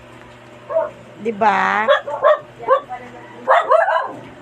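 A pet dog at home barks and yips in several sharp bursts, loud and close, with a person briefly speaking between them.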